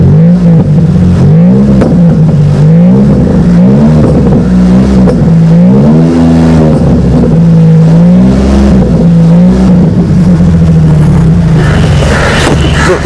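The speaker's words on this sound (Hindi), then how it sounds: "AMG की आपको एक बड़ी आवाज़ सुनाते हैं." A Mercedes-Benz SLK AMG convertible roadster with twin silencers roars loudly close by, its engine rising and falling through several deep revs before settling into a steady growl.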